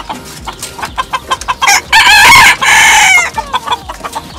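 Chickens on a farm in Saudi Arabia, loud close clucking in quick repeated bursts with a rooster-like squawking cry in the middle, no talk over it.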